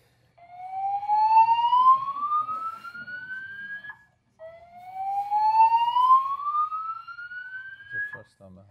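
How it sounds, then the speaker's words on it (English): A building fire alarm sounding with two long, rising whooping sweeps in a row, each lasting about four seconds, clear and steady in an indoor space with no talking over it. "Fire alarm"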